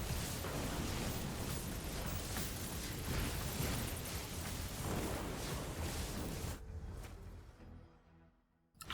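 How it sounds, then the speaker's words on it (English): Dense rumbling explosions in the video game Soulstone Survivors, a continuous loud barrage of bursts that cuts off abruptly into a fading tail near the end. "even bigger explosions"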